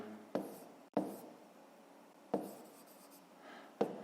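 Writing a math problem by hand for a fifth-grade exercise: four distinct pen strokes tapping and scratching on paper, close and quiet, with faint scratching between them.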